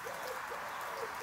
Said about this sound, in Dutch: Echt zo fijn, zo'n duif.